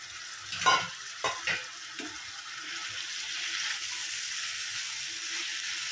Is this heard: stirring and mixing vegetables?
yes